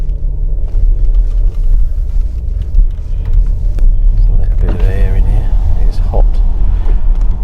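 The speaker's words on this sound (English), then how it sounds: "let's get in and go for a drive" Inside a 2022 Porsche Macan S petrol car on the move, a steady low engine and road rumble fills the cabin while someone talks over it.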